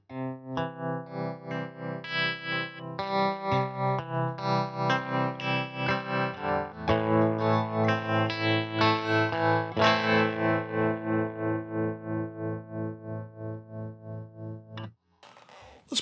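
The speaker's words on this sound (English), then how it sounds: "Let's turn up the tremolo intensity, and let's see what it sounds like at the lowest speed." An electric guitar plays through a Fender Tone Master Pro amp with slow, deep tremolo, sustained distorted chords pulsing steadily in volume. The playing continues for about fifteen seconds, then stops abruptly.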